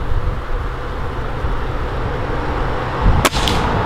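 An air rifle fires a single sharp crack near the end, cutting through a steady background hum.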